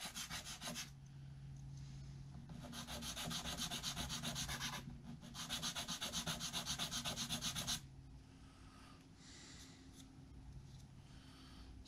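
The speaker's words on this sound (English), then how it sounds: "I'm going to sand that" Sandpaper rubbed back and forth across a wooden board for a sectional sofa build, sanding it flat; steady, close, loud scratchy strokes in bursts with short pauses, then quieter shop noise.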